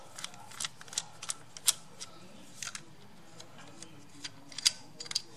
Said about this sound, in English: I'm just going to use my 10 millimeter socket to loosen